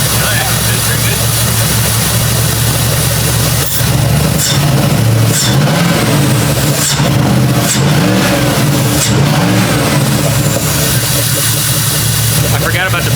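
A Jeep with a newly installed 4.7 H.O. engine runs at a steady, loud close-up idle with a few rises in revs, while people talk over the engine.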